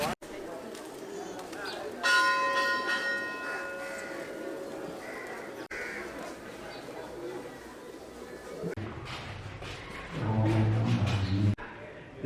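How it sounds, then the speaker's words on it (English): A temple bell rings in Kathmandu with clear, sustained metallic tones that decay slowly, amid outdoor background noise and a later low lowing sound. "We ring the bell is to drive away the evil spirits."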